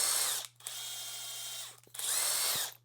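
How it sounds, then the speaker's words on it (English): An impact driver spins a BMX stem part against an old scrubby pad in two loud, whining bursts separated by a lower-pitched steady spin, close and without talk. "put them on my impact driver, take something with a minor abrasive, like an old scrubby pad"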